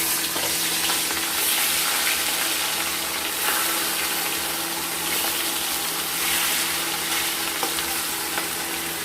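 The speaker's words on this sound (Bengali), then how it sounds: "এইভাবে আমরা সবগুলো মাছ ভেজে তুলে নেব।" Pieces of rohu fish frying in hot oil in a home kitchen, a continuous loud crackling sizzle up close with a faint steady hum underneath and no talking.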